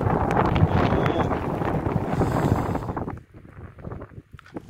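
Strong, cold mountain wind buffeting the microphone, a loud rumbling roar for about three seconds that then drops to softer gusts with brief lulls.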